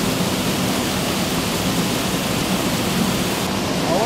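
Rushing water from a large reservoir of clean water in Bosnia drives a homemade natural washing machine, a steady, loud broadband roar close by with no pauses and no voices.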